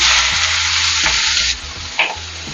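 Chopped onions drop into hot oil with cumin, mustard seeds and dried and green chillies, giving a loud close sizzle that fades slightly and flares again as the pan is stirred.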